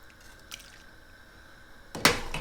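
Par-cooked squid and bell pepper pieces splash into a bowl of cold water in a single brief wet plunge, near and fairly loud after a quiet pause with a few faint clinks.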